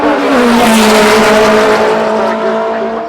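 Ferrari race car at full throttle during the Goodwood Members' Meeting, its engine roaring loud and close with a steady high-pitched drone that holds flat out for the whole stretch, no talk over it.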